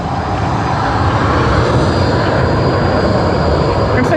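A Virgin Australia Boeing 737 arrives at Sydney Airport with a loud, steady, broadband jet roar that stays constant throughout and is close by.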